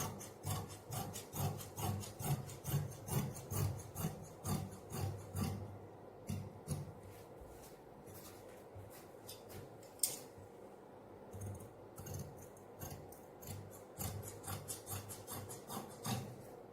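Scissors cut through fabric for palazzo pants in quiet, rhythmic snips and rubbing strokes, regular at first and then more irregular and spaced out, with no voices.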